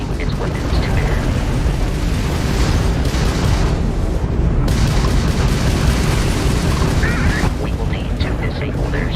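Crimson Fleet pirate ship weapons fire during a Starfield space battle, heard as a continuous loud, dense rumble of blasts and booms with no clear gaps, the bursts blending into a steady roar.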